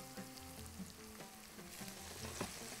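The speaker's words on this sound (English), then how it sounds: "We just need to caramelize or saute the onions so we can put it on the side." Onions sautéing in a pan give a quiet, continuous sizzle with a few soft stirring knocks, set against faint steady tonal sounds in the background.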